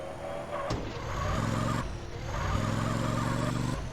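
A car pulls away in the video game GTA: Lviv, engine note climbing through two gear changes with a click between them, steady and fairly close, no talk.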